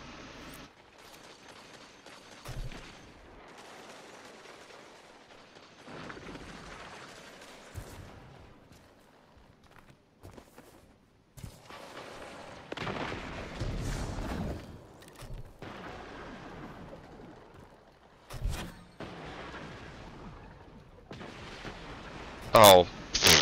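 Gunfire and explosions from a Destiny 2 player-versus-player match, a steady stream of booming shots and blasts of moderate loudness, with a player's voice talking over parts of it.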